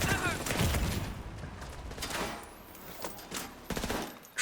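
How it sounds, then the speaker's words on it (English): An RPK machine gun firing in a video game, short bursts of rapid shots separated by pauses, with a player talking over the gunfire. "I have to get used to RPK again."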